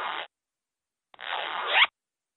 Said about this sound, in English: Z. Z. Zipper.